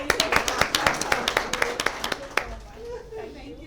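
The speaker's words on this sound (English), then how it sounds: "So again, clap for 5 people." Audience members at a training program clap together in quick, fairly regular beats, close and distinct, for a couple of seconds before the clapping trails off and stops.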